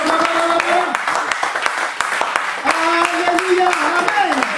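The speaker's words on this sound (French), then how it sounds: "Applaudis pour notre Dieu." A worshipping congregation claps in a lively, rhythmic beat while voices shout and sing over the clapping throughout.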